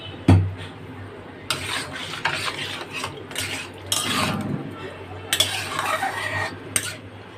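A spoon scrapes and stirs okra curry in a metal cooking pot, giving a series of clattering, scraping strokes at irregular intervals, close and fairly loud, with no talk.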